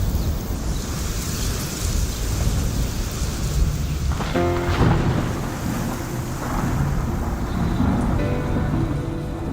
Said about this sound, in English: Storms, lightning, and thunder.